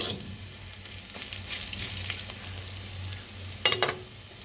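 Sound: dry red chilies and garlic frying in oil

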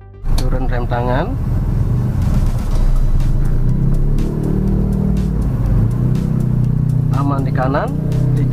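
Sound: car engine pulling away slowly uphill from a junction

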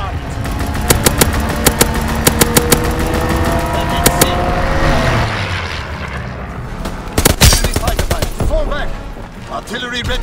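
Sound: fighter plane strafing run with machine gun fire, Call of Duty WWII video game

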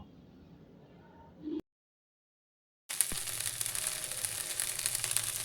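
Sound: broad beans vegetables sautéing with salt and turmeric

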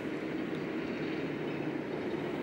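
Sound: train on steep railway line to Appenzell

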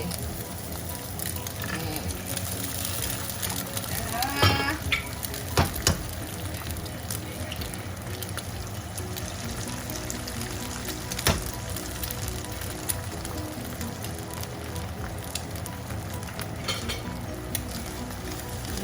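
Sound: eggs frying in a pan

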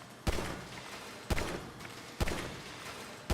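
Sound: pistol shots at targets in GTA 5 Online video game

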